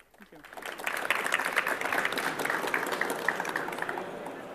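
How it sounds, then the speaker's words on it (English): An audience at a tech conference talk breaks into applause, the clapping swelling up after a brief quiet and holding as a steady, moderately loud patter, with a voice faintly underneath. "and that's your applause"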